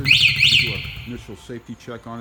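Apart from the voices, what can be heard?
Chinese ATV alarm sounding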